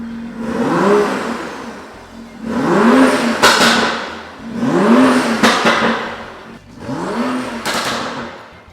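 A BMW M3 engine revs four times in succession through an exhaust with valves, each rev rising sharply into a loud exhaust roar and then falling back to a low idle.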